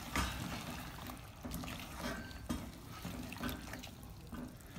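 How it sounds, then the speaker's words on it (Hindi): Water splashes and sizzles as it is poured into a hot pan of onion masala, a soft continuous rush with small bursts, fairly close. "अब हम इसमें पहले थोड़ा सा पानी डालेंगे ताकि मसाला थोड़ा सेपरेट हो।"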